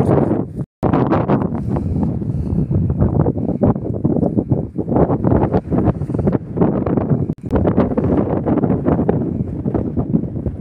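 Gale force wind buffets an exposed hillside, roaring loudly and continuously into the microphone in heavy gusts, with one brief lull near the start and another later.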